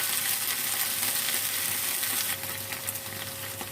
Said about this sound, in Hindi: ऑयल में हम भिंडी को फ्राई कर लेते हैं